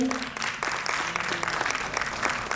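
An audience applauding at an award ceremony during a felicitation, with dense, continuous clapping throughout and a faint voice briefly audible underneath.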